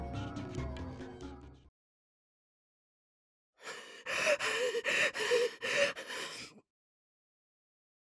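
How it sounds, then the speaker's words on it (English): A character in the Chaos;Child visual novel game gasps for breath: a rapid burst of about six ragged, heaving gasps close up, preceded by a short stretch of music and then silence. "I was gasping for breath and in dire need of water."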